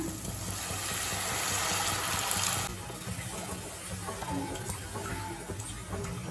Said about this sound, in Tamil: இப்போ இது கூடவே கொஞ்சமாக தண்ணி சேர்த்துக்கலாம்.